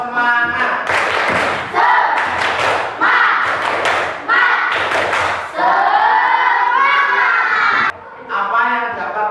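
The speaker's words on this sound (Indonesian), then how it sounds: "Biar tambah semangat, kita tepuk semangat dulu ya." Indonesian primary classroom doing a 'tepuk semangat' spirit chant: children's loud rhythmic clapping in repeated bursts, mixed with shouted group chanting, close and energetic throughout.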